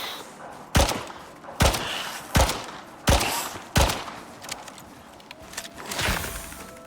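Gunfire in the Icarus video game: five loud, sharp shots roughly a second apart, each with a short ringing tail, followed by softer rumbling noise.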